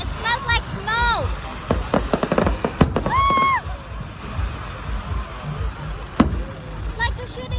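Fourth of July fireworks pop and crackle in quick bursts with some whistling rockets, a sharp bang near the end, while people talk excitedly nearby.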